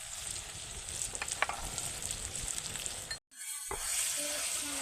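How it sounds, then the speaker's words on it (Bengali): Kashmiri chili powder and cumin powder sizzle in hot oil while being stirred for a cauliflower, egg and potato curry: a steady, close frying hiss with light scraping, which cuts out briefly before resuming. "তেলে কয়েক সেকেন্ডের জন্য নেড়ে নেব"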